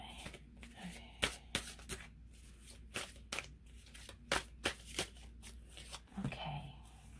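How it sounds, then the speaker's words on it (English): New tarot cards being shuffled in quick, uneven bursts of riffling and slapping, close by and fairly quiet, with short pauses between. "These cards are brand new, so they're super hard to shuffle."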